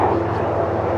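A fixed-wing airplane passes overhead near Toronto's waterfront, its engine producing a steady, loud broadband roar that holds evenly through the moment, with no voices.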